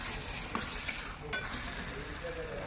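A spoon stirs turmeric and salt into chicken curry in a sizzling pan, with soft scraping strokes over a constant frying hiss.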